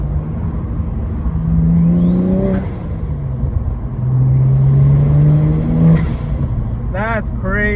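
BMW N54 engine fitted with an aluminum intake manifold, pulling hard in two strong rising bursts with a gear change and intake whoosh between them, recorded from inside the car, with brief talk at the end.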